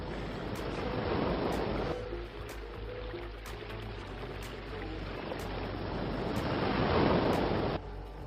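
Ocean waves wash onto a sea beach on a Costa Rican coast in the evening, a broad rolling surf roar that swells, eases and swells again, with wind buffeting the microphone and no voices.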